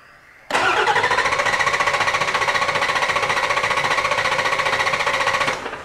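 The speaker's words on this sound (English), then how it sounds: "let's roll it over and just see if we have any skip on the cylinders" A Ford 7.3 Powerstroke diesel engine cranks over on the starter without firing, giving a loud, steady, even rhythmic chug for about five seconds before it cuts off.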